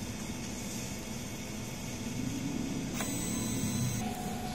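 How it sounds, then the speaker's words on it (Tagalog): A DTF printer runs its head-cleaning cycle, giving a quiet, steady mechanical whir with a sharp click about three seconds in and a thin tone shift after. "Ganito naman ang tamang pag head clean. Pindutin natin ang clean"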